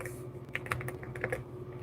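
Keys clatter in an irregular burst of light, close clicks over a steady low hum, with no voices.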